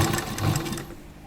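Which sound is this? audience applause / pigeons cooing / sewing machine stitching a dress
sewing machine stitching a dress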